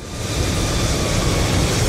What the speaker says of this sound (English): The sound of that engine from all the way over there. That yellow plane.